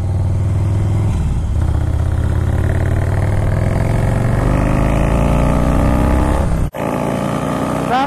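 A Harley-Davidson motorcycle with a Twin Cam 110 engine revving loud and close, a deep rumbling drone that climbs steadily in pitch, cuts off abruptly for a moment, then picks up again.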